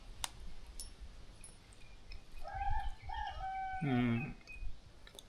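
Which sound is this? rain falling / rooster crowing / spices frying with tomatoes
rooster crowing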